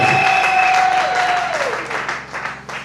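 Church congregation applauding during a French-language thanksgiving and praise service, steady dense clapping throughout with a sustained tone fading underneath.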